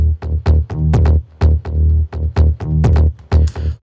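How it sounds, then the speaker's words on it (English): A Spire synth bass layered with a slap house bass sample, both sidechained, plays a punchy, bouncy bassline in short, loud repeated stabs with brief gaps, alone with no talking. "both basses together, they sound like this"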